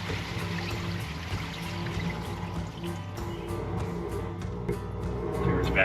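An RV black tank emptying 45 gallons through a dump hose with a vacuum running, giving a steady loud rushing, gushing flow with faint ticking throughout.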